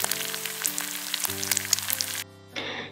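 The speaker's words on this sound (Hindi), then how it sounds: "अभी एक कढ़ाई में तेल गरम हो गया है, अभी उसमें मैं सरसों और जीरा का बघार लगा रही हूँ।" Mustard seeds and cumin sizzling in hot oil in a kadhai for a green pea dal tempering, a close crackling hiss with popping bursts under a low background hum, cutting off abruptly near the end.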